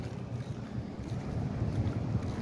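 Steady gusty wind from Typhoon Carina buffets the microphone outdoors at a port in Taiwan, a continuous low rumble with no voices.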